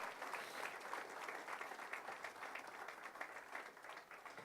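A church congregation at a Spanish-language service claps together in a dense, steady wash of applause, fairly distant and even in level for the whole stretch.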